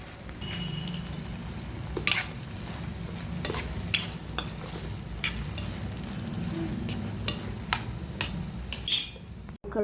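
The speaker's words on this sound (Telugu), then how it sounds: "ఇవి నాటు టమాటాలు అనమాట, అందుకని ఇలా చూడండి మెల్ట్ అయిపోయింది. ఇంకొంచెం వేగాలి." Native tomatoes fry in a pan for a red tomato chutney, with a continuous close sizzle and repeated scraping strokes of a stirring spoon; no voices.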